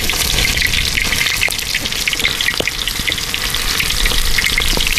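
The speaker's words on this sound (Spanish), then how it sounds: "Aquí vamos a cocinar el pescadito y sí, el sartencito." Fish sizzles steadily in a frying pan on a home stove, a loud, continuous crackle of hot oil with small pops throughout and no talking.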